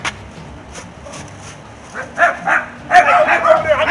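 A dog barks and yips while people play football outdoors. Short sharp barks come first, then a burst of excited yips, all mixed with faint voices in the background.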